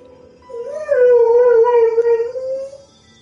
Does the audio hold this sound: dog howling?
yes